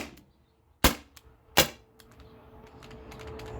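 T4E TR68 CO2 revolver fires three shots: two sharp, loud cracks close together, then a softer third pop, each with a quick decay and faint mechanical clicks in between.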